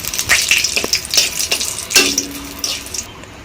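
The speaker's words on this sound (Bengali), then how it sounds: "তেজপাতা এবং শুকনো মরিচ আমার ভাজা হয়ে গেছে" Dried red chillies and bay leaves fry in hot mustard oil in a wok, a close crackling sizzle with bursts of spitting and light stirring, no voice.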